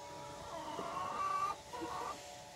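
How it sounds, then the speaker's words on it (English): Chickens clucking softly nearby, a few drawn-out, wavering calls with short pauses between them, fairly quiet. "I wanted to show you my chickens."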